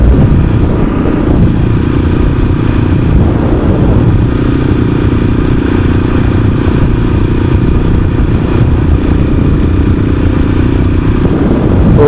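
A small engine runs steadily at roughly 3,500 rpm, a constant loud drone with no change in pitch across the whole stretch.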